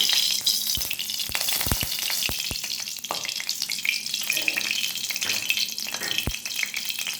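Oil heating in a hot kadai before frying mushrooms gives a steady broadband sizzle and hiss, with several sharp clinks and taps from a utensil against the pan scattered through it.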